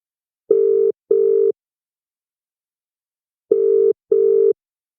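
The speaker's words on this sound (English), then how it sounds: "I'll ring him again" A telephone call rings out with two double-ring bursts of tone, a short pair, a pause of about two seconds, then another pair, clear and alone.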